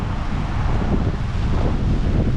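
Strong wind from the tail end of a typhoon sweeping a city street in Roppongi, Tokyo, a loud, constant roar buffeting the microphone with no speech.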